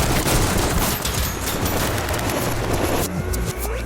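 A film scene with a dense, rapid volley of gunfire, many shots overlapping into a loud, continuous crackle for several seconds.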